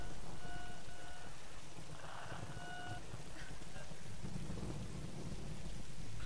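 Rain and thunder in the video game Tomb Raider, a steady wash of rainfall with low rumbling thunder underneath, fairly quiet and continuous, with a faint tonal game sound briefly over it.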